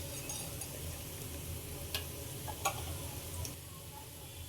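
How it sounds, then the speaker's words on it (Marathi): Coriander vadi pieces frying in oil on a medium flame, a low steady sizzle throughout with a few faint clinks of a utensil against the pan. "आता आपण बाजूने तेल सोडून ठेवूया आपल्याला ही वडी पाच मिनटं फ्राय करून घ्यायची आहे"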